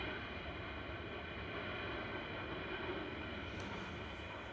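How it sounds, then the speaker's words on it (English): Ryanair Boeing 737-800 touching down on runway 23 right at Manchester Airport, a steady broadband roar of jet engine and rolling noise held at an even level throughout, continuous and fairly distant with no speech. "just touching down on 23 right is Ryanair from Porto, 737-800 EI EMF"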